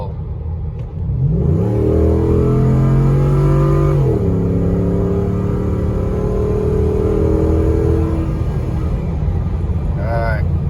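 A custom-tuned Ford F150 pickup accelerates hard through a 50 to 80 mph roll, its engine note climbing loudly and steadily over several seconds before easing off, heard from inside the cab.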